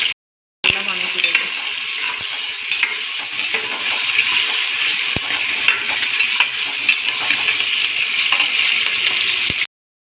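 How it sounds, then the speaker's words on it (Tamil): Onions with green chilli and curry leaves sauté in a pan for chicken biryani, a steady broadband sizzle with scraping stirs and a few sharp utensil clicks, sustained close-up for most of the stretch with no talking. "நல்லா வணக்கிடுங்க."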